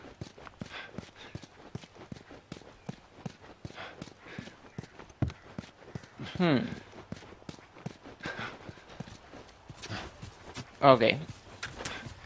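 Horse hooves clip-clop steadily in The Last of Us video game, a regular walking rhythm of hoof strikes running throughout, mid-distance, with people talking over it.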